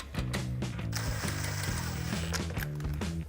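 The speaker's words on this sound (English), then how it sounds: "grab a 13mm socket and tighten it down" A 13mm socket ratchet tightens an exhaust clamp on a Jeep Gladiator JT, giving rapid close clicking strokes in repeated bursts, steady and mechanical with no talk.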